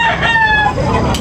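A gamecock rooster crows at a fighting-cock market, one short, loud, close crow lasting about a second against a busy background.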